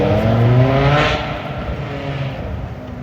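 A BMW M5 V10 engine and exhaust revs loudly nearby on a city street, with a rising howl that peaks early and then settles into a steady rumble.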